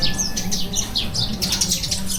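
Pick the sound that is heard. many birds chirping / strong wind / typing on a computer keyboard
many birds chirping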